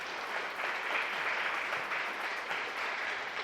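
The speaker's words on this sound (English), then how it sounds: "Big round of applause for Paul there." Audience applause for a guest on a TV arts show, steady dense clapping throughout, moderately distant and fairly quiet with no talking over it.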